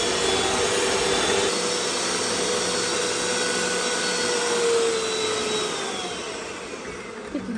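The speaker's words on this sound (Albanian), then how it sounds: "Tash e përzina me mikser derisa të bëhet një mos kremoze" An electric hand mixer beats eggs with sugar and vanilla sugar in a bowl, giving a loud, continuous whirring drone that holds steady and eases slightly near the end, with no talk over it.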